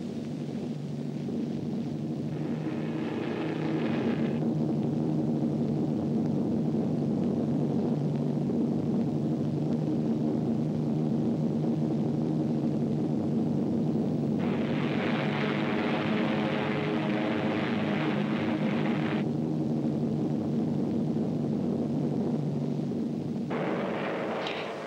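American bomber and fighter formations flying over the French coast produce a continuous, heavy engine drone that fills the whole stretch, with bursts of harsher rumble rising over it from time to time.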